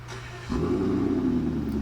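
A 1994 Ford Taurus SHO with its Yamaha-built high-performance engine idles, then steps up abruptly into a louder, steady revving drone, close and alone.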